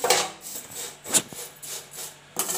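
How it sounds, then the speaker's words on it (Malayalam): Dry vermicelli being roasted and stirred in a pan for a chicken biryani, giving scraping, rasping rubs in a few separate bursts at close range, with no talk. "ഇതിലേക്ക് വർമ്മസല്ലി ഇട്ട് നമുക്കൊന്ന് വറുത്തെടുക്കാം"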